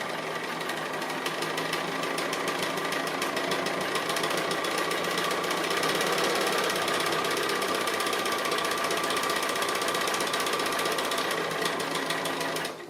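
A sewing machine running steadily and close for the full length, doing free-motion straight stitching around an applique, with a dense, even mechanical whir and rapid needle clatter and no pauses.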